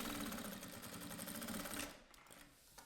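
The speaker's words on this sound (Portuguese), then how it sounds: "Agora é que eu já passo uma costura definitiva." A sewing machine runs steadily while stitching the final seam on a clutch bag, its motor whirring loud and close for almost two seconds before it stops and a few faint clicks follow.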